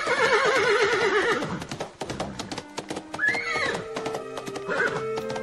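Several horses galloping and neighing at a horse race, loud whinnies with clip-clop hoofbeats close by, no voices.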